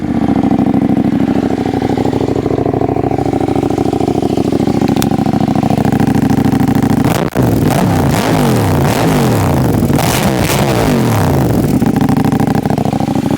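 A warmed-up motorcycle engine runs in a steady, close drone, then a sharp catch gives way to a busier, rising rev pattern that settles back, loud and alone with no talking.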